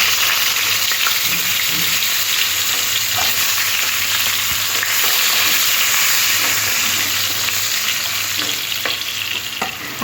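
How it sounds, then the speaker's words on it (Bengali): Potato pieces fry in hot oil left over from frying katla fish, a loud, steady sizzle with occasional stirring scrapes throughout. "মাছ ভাজা তেলের মধ্যে আরও অল্প একটু তেল দিয়ে দিলাম। তারপরে আলুর টুকরোগুলো দিয়ে ভেজে"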